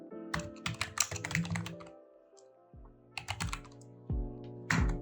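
Computer keyboard typed on in quick bursts of crisp clicking keystrokes, close and clear, with short gaps between runs and a few single taps.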